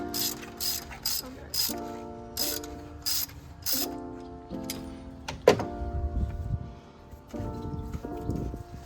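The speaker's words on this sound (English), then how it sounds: "I'm gonna loosen this cap here." Ratchet wrench clicking in short bursts while loosening the oil filter cap on a Ferrari 360, close up, with pauses and a few metallic knocks between the rapid ratcheting runs.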